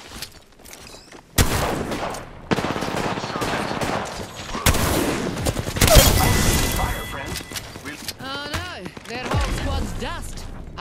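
Apex Legends gunfire: loud, close bursts of rapid automatic shots with sharp cracks and mechanical clatter, coming in several volleys separated by brief lulls.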